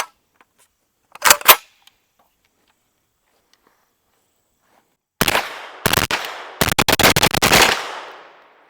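Gunshots from a KP9 pistol fitted with an OKP7 optic: one quick pair of loud sharp cracks, a pause, then a rapid string of shots in close bursts, all near and alone without talk.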